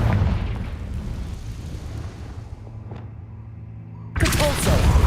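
Confringo blasting spell going off in the video game Hogwarts Legacy, a rumbling fiery blast that fades out, then a sudden loud burst near the end.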